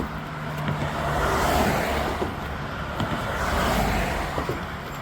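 Highway traffic beside an Appalachian Trail walk near Pearisburg rolls past in broad, swelling rushes of tyre and engine noise, two louder passes standing out over a constant roar, with light wind and no talk.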